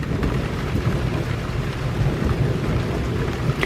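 Steady heavy rain with rolling thunder rumbling underneath during a thunderstorm outdoors, continuous and fairly loud, with a few sharper drips on a surface.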